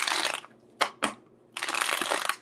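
A deck of tarot cards is shuffled fast and close up, giving a riffling burst, two quick snaps, then another long riffle, with no talking.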